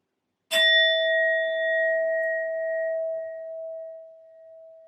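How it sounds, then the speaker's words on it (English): A single strike on a metal sound bowl rings out as a clear, loud tone that sustains and slowly fades over several seconds, heard alone. "I will be using my sound bowl first to clear and set the energy"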